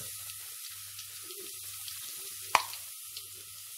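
Onions dropped into hot oil for Lahori chikar cholay, a soft sizzle and dripping crackle with one sharp pop midway, quiet and close over a faint low hum.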